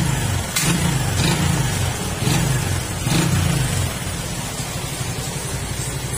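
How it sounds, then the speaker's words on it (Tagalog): Honda Wave 125 motorcycle engine, freshly tuned and adjusted, revving in a few quick bursts over a steady low idle, close and fairly loud with no talk. "pag-pihit nyo ng mabilis ganyan, at sumusunod yung RPM o yung kanyang redundo"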